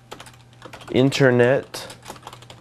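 Quick clicks on a computer keyboard come in short bursts before and after a brief spoken phrase.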